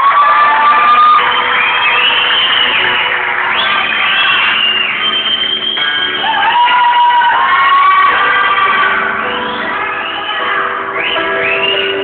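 A Miss Gay pageant audience cheers and shouts loudly and continuously, with high whoops and screams layered over a dense crowd roar and no clear speech.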